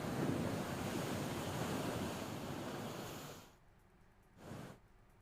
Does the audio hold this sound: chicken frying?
no